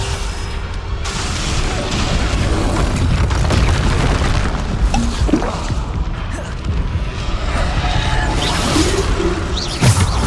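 Repeated Bombarda explosion spells blast in the Hogwarts Legacy video game, loud booming detonations with crashing debris and whooshes recurring across the stretch.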